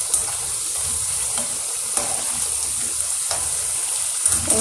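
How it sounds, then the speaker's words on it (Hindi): Rice flour and cabbage pakoras frying in hot oil, a steady bubbling sizzle close by with occasional light clicks and scrapes of a slotted spoon turning them, and no talking. "जल्दी से पलटा देने के बाद फिर निकाल देंगे और इस तरह दूसरे भी फ्राई करती है।"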